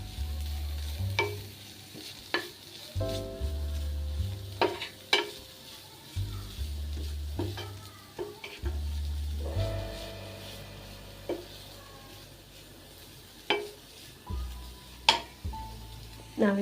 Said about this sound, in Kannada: ನಾವು ಪನ್ನೀರ್ ಸೇರಿಸ್ಕೊಂಡು ಇದನ್ನು ಮಿಕ್ಸ್ ಮಾಡ್ಕೊಳ್ಳೋಣ. ಇದೆಲ್ಲ ಹಸಿ ವಾಸನೆ ಹೋಗೋ ತನಕ ಸ್ವಲ್ಪ ಬೇಯಿಸ್ಕೊಳ್ಳೋಣ.